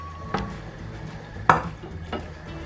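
A utensil clinks against a cooking pot as vermicelli is stirred for sheer khurma, giving three sharp metallic taps spaced about a second apart over a low background hum.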